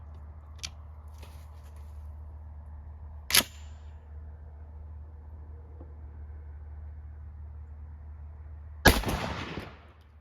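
A 12 gauge shotgun fires a buckshot load of sixteen No. 1 buck pellets through an extra full turkey choke at 40 yards. One sharp, loud blast with a short decaying tail is heard, preceded by fainter clicks and a smaller crack.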